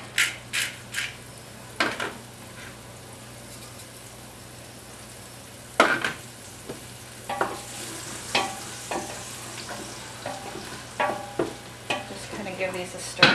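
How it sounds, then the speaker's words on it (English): A spoon scrapes and stirs through red sauce sizzling in a pan, with intermittent close scraping strokes over a soft, steady frying hiss. "Give these a stir because I don't want them to get burnt."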